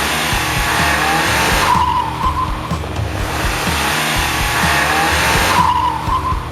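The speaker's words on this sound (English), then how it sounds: "flatten your foot on the floor, and you will find that there is a considerable amount of torque steer, and the wheels do spin" Fiat Avventura with a 1.4-litre T-Jet engine launched at full throttle, its front wheels spinning and squealing with torque steer. The engine roars loudly and close, and two sharp tyre screeches rise over it.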